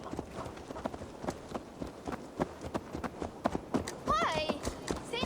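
Steady clip-clop of horse hooves in Assassin's Creed Valhalla, a rhythmic run of hoofbeats under continuous talking, with a brief tonal flourish near the end.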